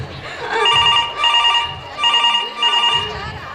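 A telephone bell rings unanswered in repeated double bursts, four rings in close succession at moderate volume, with faint background noise between them.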